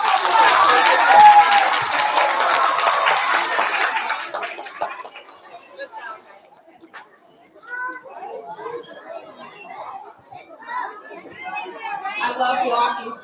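Applause from an audience of kindergarten and first-grade pupils at a school awards assembly: a dense, loud wash of clapping and crowd noise for about four seconds, then fading into scattered children's chatter and movement.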